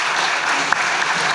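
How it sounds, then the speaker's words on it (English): Thick, even applause from a summit audience thanking a panel, continuous and fairly loud for the whole short stretch. "A round of applause for everyone."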